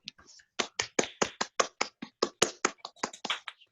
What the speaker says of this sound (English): We even heard some clapping.